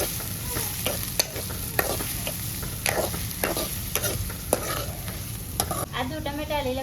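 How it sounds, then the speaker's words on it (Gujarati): Onions fry in a pan with a constant close sizzle while a spatula stirs them, making repeated quick scraping clatters at an uneven rhythm. A short tonal sound rises near the end. "આપણે ડુંગળી નાખીને ડુંગળીને ચેડવાની છે થોડીક વાર"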